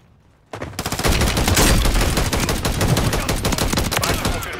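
Rapid, heavy gunfire in sustained bursts, loud and close, with a dense rattling rhythm like automatic weapons in the video game Call of Duty.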